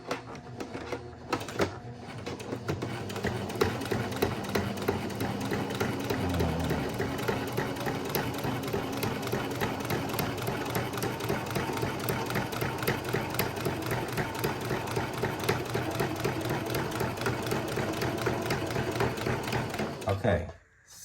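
A sewing machine stitches fabric for a junk journal cover, its motor running in a fast, steady mechanical chatter for nearly the whole stretch, loud and close, with someone talking over it at times.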